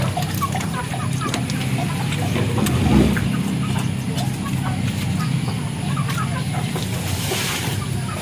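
Chickens clucking in a poultry pen, scattered short calls over a steady background murmur, with people talking nearby.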